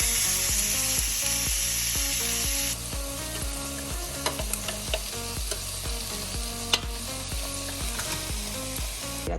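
Burgers cooking on a Ninja grill in grill mode, a steady sizzle under a strong repeating mechanical pulse, with a few sharp clicks and knocks scattered through and no voices.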